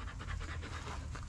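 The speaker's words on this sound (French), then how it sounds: "Donc normalement, c'est un Malinois." A three-year-old Belgian Malinois pants steadily, close by, with quick rhythmic breaths over a low rumble and no voices.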